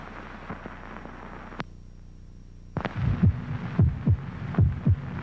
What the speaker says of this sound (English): This is the sound of a human heart.